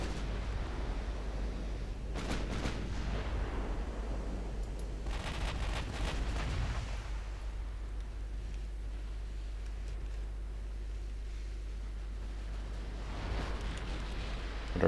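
Heavy warship guns fire at a battlecruiser during a naval battle in Ultimate Admiral Dreadnoughts, with an Italian fleet in 1963: a few separate bursts of muffled, rumbling booms rise over a steady low drone, with no talking.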